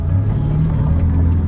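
The 2.0 TDI diesel engine of a Skoda Yeti revs while green laning in North Yorkshire, a loud, close low rumble held steady for a moment.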